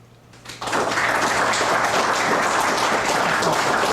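Applause from a seminar audience starts with a few scattered claps, then swells within half a second into steady, dense clapping that fills the room and holds at full strength throughout.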